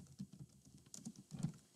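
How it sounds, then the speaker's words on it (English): Soft, close computer keyboard typing, a quick run of irregular clicks and taps at low volume with no talking. "I'm really struggling with typing today."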